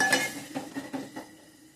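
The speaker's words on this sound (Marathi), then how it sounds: "थोडं पाणी टाकून जरा मसाला चांगला हलवून घ्यायचा आहे" Masala stirred with a little water in a pan for a fresh cashew-nut curry, giving soft scraping strokes and a few light metallic clinks of a spoon against the pan, close and fairly quiet, fading toward the end.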